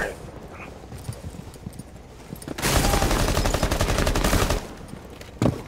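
Sustained bursts of automatic gunfire in a Rainbow Six Siege team deathmatch hostage round at the Consulate map, loud rapid shots filling the middle of the clip after quieter shuffling, with a final short burst near the end.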